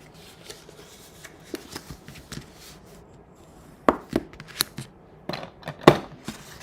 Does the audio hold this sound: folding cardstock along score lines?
yes